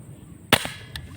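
A single sharp airgun shot fired while shooting fish cracks close by, followed by a short echo-like tail and a faint second knock, over quiet outdoor background.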